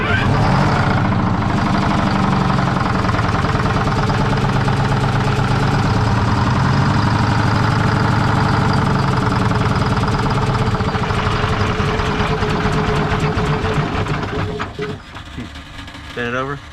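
Classic cabover truck engine running at a steady, loud idle with a deep, constant rumble and rattling vibration that continues throughout, dropping slightly near the end.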